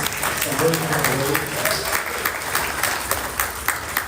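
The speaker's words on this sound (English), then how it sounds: "y'all clap it up for the panel" A convention audience claps for a panel, a dense sustained applause close by, with speech over it.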